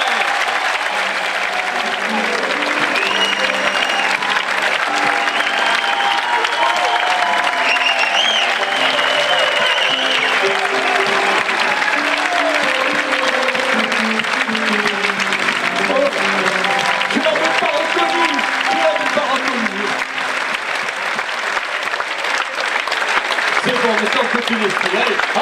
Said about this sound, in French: on va vous demander d'applaudir